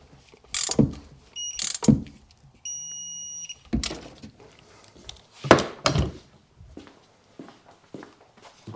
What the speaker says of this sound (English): Now we'll tighten these up and then torque them down.